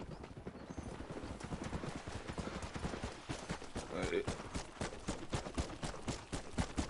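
Horse hooves clip-clopping in Red Dead Redemption, a fast steady rhythm of close, crisp hoof strikes running throughout with background game ambience and a brief snort midway.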